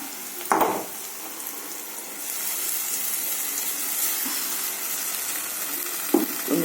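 White kurma spice paste poured into a hot pan sizzles and hisses steadily for several seconds after a short splash of pouring, with a brief clatter of utensil against the pan near the end; no talk.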